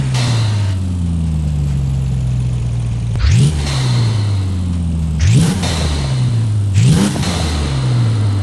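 Mercedes-AMG ONE in Forza Horizon 5 with the sport engine upgrade, giving three sharp revs over a loud, close idle, each one rising quickly and then dropping back, with no voices.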